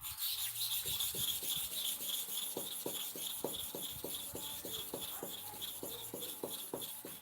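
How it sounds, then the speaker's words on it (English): A bottom clipper blade being sharpened at a 45-degree angle, its steady rasping strokes repeating in an even rhythm, close and alone. "We are still sharpening the bottom clipper blade at the same angle 45 degree again."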